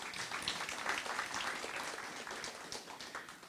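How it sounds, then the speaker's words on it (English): An audience at an NAACP jubilee celebration claps in a steady, moderately distant round of applause that carries evenly for a few seconds without voices over it. "please give her a round of applause"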